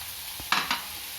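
Green peas go into a frying vegetable cutlet mixture of cauliflower, giving two short, bright bursts of sizzling and stirring over a faint steady hiss, close by and alone.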